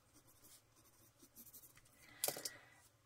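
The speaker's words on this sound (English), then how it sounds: "Let me write that down so I don't forget." Handwriting on paper while working on a postage stamp collage: faint scratchy pen strokes in short bursts, ending with a louder brief scratch or tap, close and quiet.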